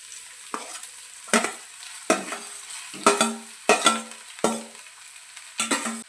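Rice is stir-fried with softened vegetables in a pan for vegetable fried rice: about eight brisk, rhythmic scraping and tossing strokes, each with a short sizzle, close and clear with no talking.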